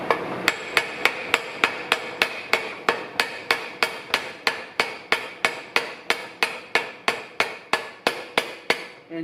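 Steady, evenly spaced sharp taps from a wooden hammer handle on a spinning Jeep TJ Rubicon 241J transfer case part, about three per second, each a bright knock with a short ringing decay, continuing throughout.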